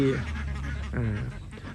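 Laying ducks on a Thai duck farm, CP Super and Khaki Campbell breeds, honk and quack close by in a short cluster of calls over steady farm background noise.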